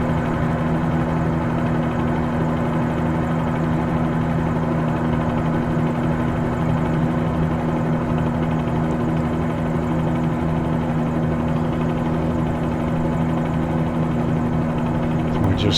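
Helicopter engine and rotor from Microsoft Flight Simulator 2020, a steady, loud droning whine with a constant low thrum, flying near Key West and lasting throughout without speech.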